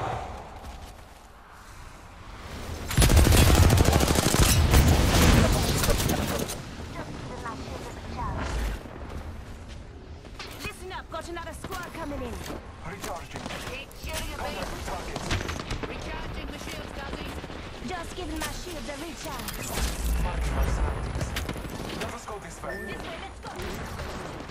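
Gunfire in Apex Legends, a loud burst of rapid shots early on followed by continued sporadic firing and impacts, with a voice talking over much of it.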